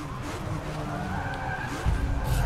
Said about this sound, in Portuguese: fazendo para começar um drift